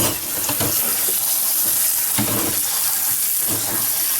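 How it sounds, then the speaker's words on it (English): Tap water pours steadily into a sink over canned chickpeas being rinsed, a continuous close splashing hiss with a few louder surges as the beans are shaken. "now I'm going to give it a wash. Just rinse them all real good"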